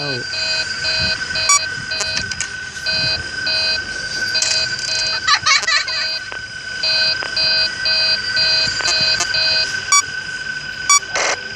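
An electronic alarm chime from the video game Five Nights at Freddy's 3 repeats as steady, loud pulsing beeps for several seconds, with a voice speaking over it.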